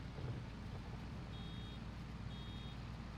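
A hay baler working a small grass plot gives two short, high electronic beeps as the bale fills. The beeps sit faintly over a low, steady engine rumble.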